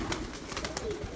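Pigeons coo softly on a rooftop, with low murmuring coos over a steady background hiss in a brief moment.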